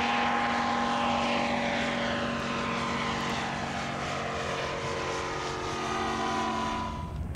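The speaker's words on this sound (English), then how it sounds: "Look at that short takeoff." A small propeller-driven ultralight trike aircraft takes off at Zephyr Hills on a calm morning, its engine droning steadily and loudly close by for the whole stretch, with the pitch gently shifting as it climbs away.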